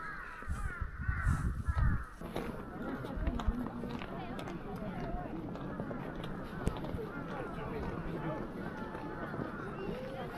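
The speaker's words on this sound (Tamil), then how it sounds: "இந்த அட்டகாசமான பனி படர்ந்த ஸ்னோயி லேண்ட்ஸ்கேப்பில் இந்த காக்காக்கள் சத்தமும் இதுவும்" Crows cawing across a snowy landscape in a Japanese village, repeated harsh calls near and far over a steady background, with crunching steps early on.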